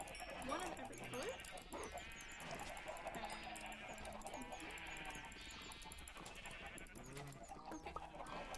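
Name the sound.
sheep bleating in the video game Minecraft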